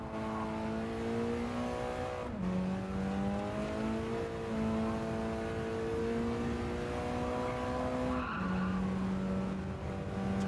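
A race car in Gran Turismo 7 drones along at high revs with a constant engine tone, the pitch climbing and then dropping sharply at two gear shifts as tyres scrub underneath.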